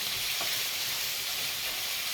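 Steady hiss and crackle of onions frying in a hot pan, constant and close, with no voices.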